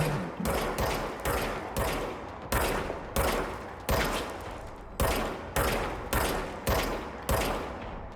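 Rapid automatic gunfire from a weapon in the video game Control, loud and close, coming in about a dozen evenly spaced short bursts, each opening with a sharp crack and fading quickly.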